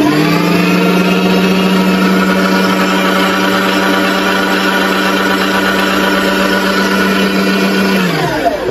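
A repaired Naniwa electric meat grinder, fitted with a replacement for a broken gear, runs with a steady, loud motor hum and whine for several seconds before winding down at the end.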